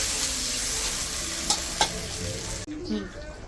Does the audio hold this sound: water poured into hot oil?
yes